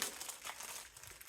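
A plastic bag from a multimeter kit crinkles briefly and quietly as it is opened, soft crackling alone with no talk.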